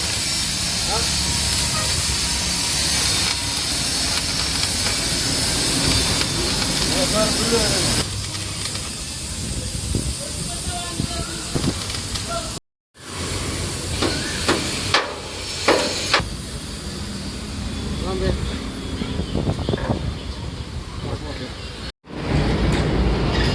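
Welding on a vehicle in a workshop, a continuous harsh crackling hiss with occasional metallic taps and knocks, broken by two brief pauses, while someone talks over it now and then.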